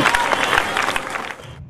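An audience claps together at a school annual day, a dense burst of applause from a crowd that fades out near the end.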